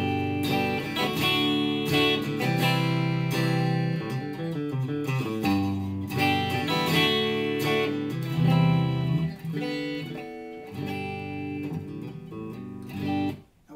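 Electric guitar through a Blackstar HT-Club 40 amp with the tone knob turned fully right, bright strummed chords and melodic picking played steadily and alone for about fourteen seconds, with a brief dip at the close.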